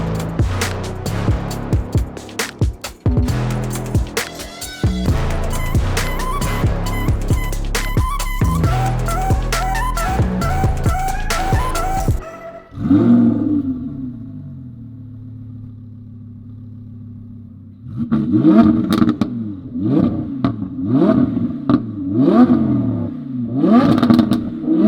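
A sports car engine revs hard and crackles through a lightweight exhaust, then drops to a burbling idle before a series of sharp, loud throttle blips.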